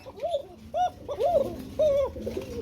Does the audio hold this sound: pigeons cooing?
yes